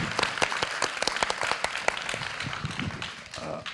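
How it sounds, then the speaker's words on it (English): Applause from a small audience at a book event, with individual claps clearly distinct and fairly close, irregular and moderately loud, tapering slightly toward the end. "we should give her a round of applause"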